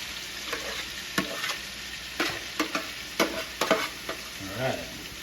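Venison pieces browning in melted butter in a pan, a close, steady sizzle broken by repeated stirring and scraping clicks as the meat is moved around.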